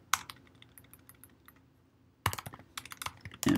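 Computer keyboard typing an npm install command, a quick run of light clicking keystrokes, faint at first and then a denser, louder burst of taps near the end, close and clear with no talking.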